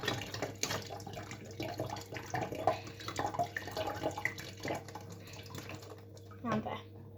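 Water splashing and trickling into a bottle for a homemade lava lamp, uneven gurgles and drips against a steady room hum, with people talking quietly in the background.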